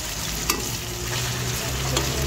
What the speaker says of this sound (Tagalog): Papulahin natin guys para lumabas yung mantika nito guys.